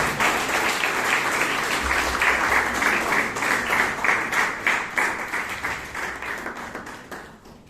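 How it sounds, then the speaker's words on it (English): Applause from an audience at a Toastmasters meeting in Bangalore, a steady dense patter of many hands clapping that carries on alone and slowly tapers toward the end. "Give him a big round of applause"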